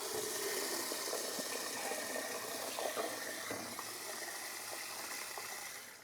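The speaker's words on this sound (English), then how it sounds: "we'll just add the water up to the line" Water streams steadily into a pot of harvested chestnuts, producing a continuous close hiss and splash without pause; no voices.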